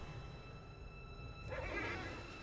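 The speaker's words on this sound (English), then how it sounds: "Oh, horse says no more." Horse in the World of Warcraft video game letting out a neigh, a brief whinny rising midway over a low ambient game soundscape.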